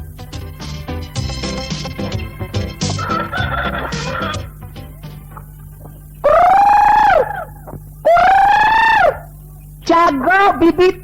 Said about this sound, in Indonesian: Jago bibitan.